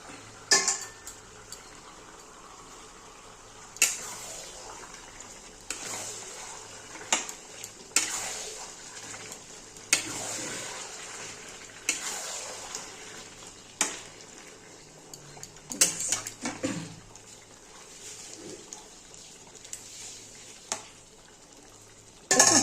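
Chicken curry with potatoes being sautéed and stirred in a pan, with scattered scrapes and clinks of a spatula against metal over a low, steady sizzle at close range and no talking.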